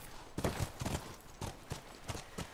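Horse hooves clop in a steady, uneven rhythm while riding in the video game The Last of Us, with moderately loud repeated thuds over a soft background.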